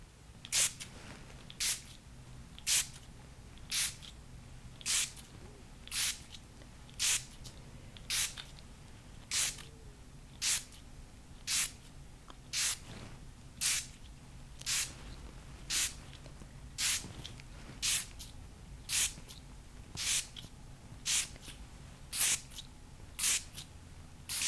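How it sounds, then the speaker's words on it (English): A spray bottle misting close by, about twenty short sharp hissing spritzes at an even, unhurried pace, soft and intimate against a quiet background. "I'm going to spray this around you if you don't mind."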